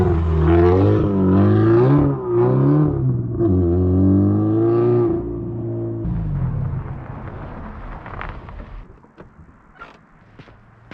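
Subaru Legacy GT with straight pipes revs hard and loud up close during a low-boost drift, several rising and falling revs, then drops to a rougher, quieter rumble with crackles.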